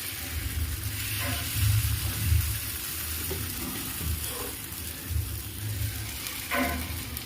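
Paniyaram batter sizzles in a frying pan, giving a faint, steady crackling hiss with soft bubbling swells and no talk.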